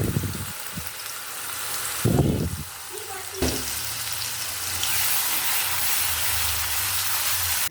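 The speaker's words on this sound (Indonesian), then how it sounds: "tumis bumbu yang tadi sudah dihaluskan" Ground spice paste sautéing in hot oil for sambal goreng ati ampela: bursts of sizzling and stirring scrapes, then a steady loud hiss of frying close up, with voices partly over it.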